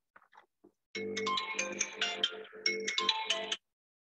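A phone ringtone plays loud and clear as a bright electronic melody of repeated tones for about two and a half seconds, preceded by a few faint clicks and then cut off abruptly into silence.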